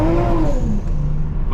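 A 500-horsepower Toyota Supra in normal mode accelerates hard from the driver's seat, its engine note loud and close, surging briefly before it eases, with no talking.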